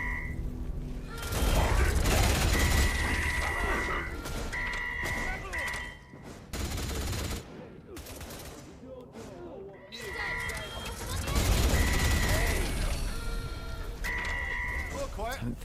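Turret gunfire in a video game's Wicked Isle DLC, heard as dense, loud stretches of rapid fire that come and go over a sustained musical tone, with brief quieter gaps between bursts.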